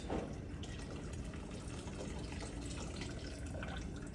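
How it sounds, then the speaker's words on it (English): Water from a canning pot pours steadily into a sink, a continuous soft splashing and gurgling with no pauses, fairly quiet and close. "So I'm going to pour this rest of this water into my sink"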